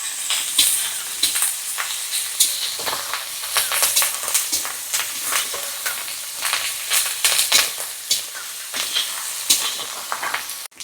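Onions fry in a pan for a ginger curry with fish, a steady close sizzle broken by frequent scraping stirs throughout, with no talking.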